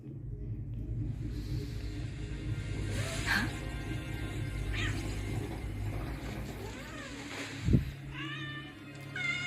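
A cat meows several times in the video game Wuthering Waves, short rising and falling cries over a low rumbling game ambience, with a sharp thud near the end.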